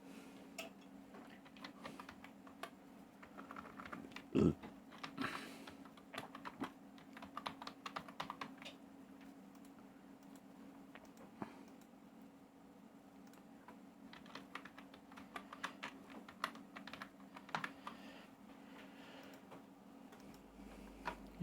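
Soft, irregular keystrokes on a computer keyboard while an online school admission form is filled in, quiet and close, with scattered clicks and one sharper tap, no talking.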